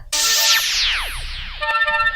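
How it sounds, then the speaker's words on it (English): A playful Star Wars-themed cell phone ringtone rings out loud and alone, with bright sweeping electronic tones sliding downward in quick succession, then steady beeping notes. "Suddenly, a playful ringtone starts to play, seeming to express his personality."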